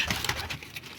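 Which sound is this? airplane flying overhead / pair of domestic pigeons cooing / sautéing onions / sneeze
pair of domestic pigeons cooing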